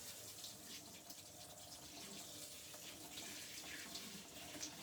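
Brown rice rinsed under a running kitchen tap, a faint continuous stream of water splashing into grains and sink with occasional small sloshes, quiet and without speech.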